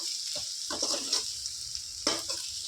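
Chili powder frying in a pan for an okra and egg curry, a steady soft sizzle with a few brief scraping stirs, close and moderately loud, no voices.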